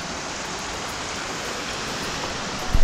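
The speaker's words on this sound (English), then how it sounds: "So it's still raining." Rain falls steadily in Vietnam during a motorbike trip, a constant even hiss of drops that fills the whole stretch, ending in a short, close thump.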